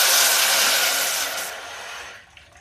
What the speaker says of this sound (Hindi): इसमें हम डाल देते हैं थोड़ा गर्म पानी